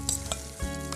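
Tempering spices sizzle in hot oil for a chutney, a brief crackling fry with a couple of sharp stirring ticks and no speech.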